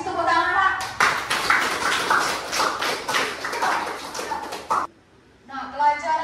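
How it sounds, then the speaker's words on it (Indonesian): A classroom group claps together for a few seconds, a dense patter of hands mixed with children's voices, before stopping abruptly and talk resuming. "kasih tepuk tangan"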